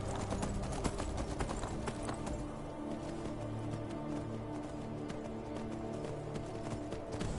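Horse hooves clip-clopping in a steady rhythm while riding across ground in Skyrim, continuous and moderately close, with a low game ambience underneath.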